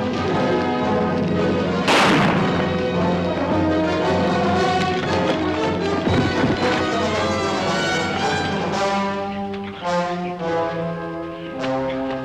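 A pistol fires in a TV drama with one sharp, loud crack near the start. Softer shot-like thuds follow over a dense, sustained backdrop.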